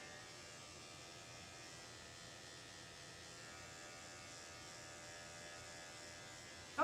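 Andis 5-speed electric dog clipper fitted with a ceramic 10 blade, used for a sanitary trim during grooming, hums in a steady, even buzz close by throughout, with no talk.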